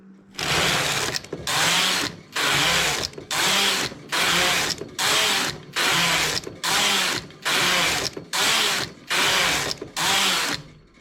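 A knitting machine carriage slides back and forth across the needle bed knitting closed stitch, about a dozen loud, even, whirring passes separated by short gaps, close and with no speech.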